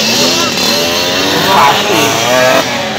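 A Yamaha RX King motorcycle at a fun-race practice session, its two-stroke engine revving loud and close in a continuous buzzing drone that rises and falls slightly, with people talking over it.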